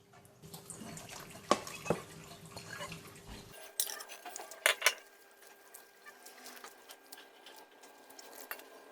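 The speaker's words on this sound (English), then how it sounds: "We need to rinse it a few times, just to make sure that the salt are all washed out." Salted bitter gourd being rinsed in a bowl of water, with soft sloshing and splashes, a few clinks against the bowl, and a sharper burst of water near the middle, fairly quiet and close with no talking.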